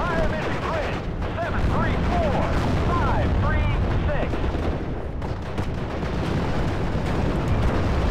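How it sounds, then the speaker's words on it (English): Artillery barrage explosions in the video game Steel Division Normandy 44, a dense continuous rumble of blasts and gunfire with no gaps, loud and steady throughout. "we need more emergency artillery barrages"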